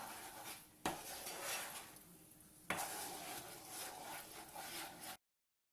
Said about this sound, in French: Vous mélangez tout ça. Hop, vous mélangez bien.